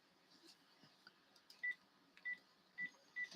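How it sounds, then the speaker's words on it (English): A phone number being dialed: four short, evenly pitched keypad beeps sound in quick succession against a faint, quiet room background. "I'm going to call these people right up right now."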